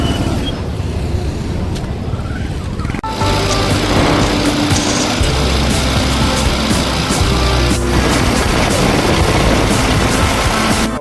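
Steady loud drone of a motorcycle engine running close by, its pitch rising after a few seconds and holding steady.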